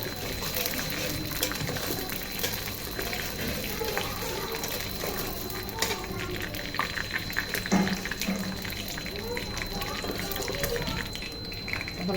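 Chopped dried red chillies fry in a generous amount of hot oil, a steady close crackling sizzle that continues evenly throughout.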